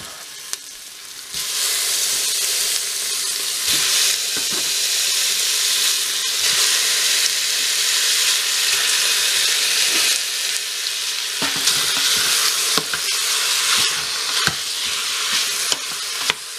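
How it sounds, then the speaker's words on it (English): Beef and onion frying in a Cosori pressure cooker, a loud, steady, hissing sizzle running throughout with occasional stirring knocks. "Next thing we're going to do is add the meat."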